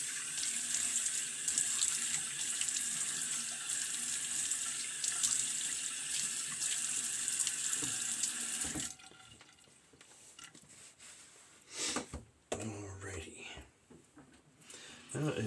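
Water runs steadily from a bathroom tap for about nine seconds while a man wets his face for a shave, then stops, leaving splashes, drips and handling noises with faint speech nearby.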